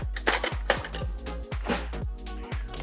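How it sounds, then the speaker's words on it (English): A spoon clinks repeatedly against a glass jar while stirring in a quarter cup of white sugar for a spiced pineapple sour cocktail, with sharp rhythmic metallic taps roughly twice a second, close up. "I'll grab a spoon and we'll stir that down"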